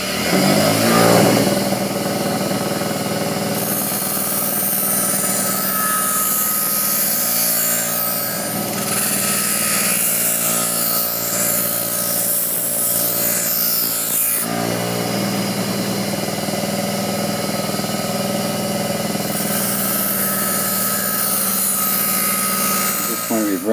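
A power tool grinds a bevel along the edge of a knife made from a saw blade, a loud steady whine that dips briefly mid-clip and then resumes, with some talk over it.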